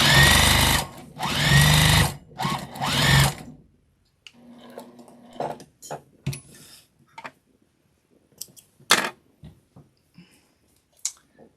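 A sewing machine stitching a fabric strip onto the end of another strip for a scrap-fabric Christmas bowl cozy, with three loud whirring bursts up close at the start, followed by quiet scattered clicks and handling noises.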